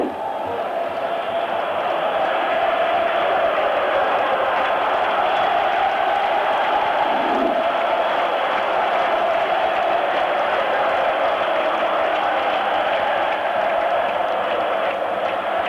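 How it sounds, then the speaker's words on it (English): Massive stadium crowd at AS Roma's ground celebrates in a European Cup semi-final second leg, a constant, loud roar of voices and chants sustained without pause, with a brief louder shout rising near the middle. "The noises of triumph floating over the Roman hills"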